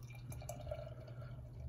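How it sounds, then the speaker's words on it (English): Coors Banquet beer is poured from a can into a glass, a faint gurgling trickle over a low steady hum. "going in for the pour"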